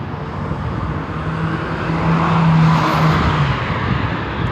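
Road traffic on a Thursday, a car approaching and passing nearby with a broad rushing engine and tyre roar that swells toward the middle and eases off.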